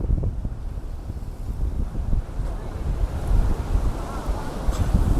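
Continuous rushing surf at high tide by Haji Ali Dargah in Mumbai, with wind buffeting the microphone, waves washing in a steady roar without any talking.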